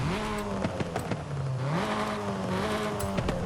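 Engine of an Abarth 124 Spider revving in the racing game Forza Horizon 5, a steady, loud drone whose pitch climbs and dips across the rev range, with a few sharp transient clicks, no talking.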